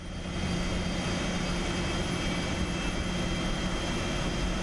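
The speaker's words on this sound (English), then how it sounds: "Starting up engine number 2." Steady, loud jet engine whine and rumble of a PMDG 777 engine starting up in MSFS 2024, a continuous even roar with no talk.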